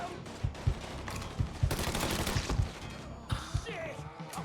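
Rapid gunfire bursts and sharp shots ring out in a video game shootout, repeated punchy bangs across the whole stretch amid dense battle noise, with a player shouting over it.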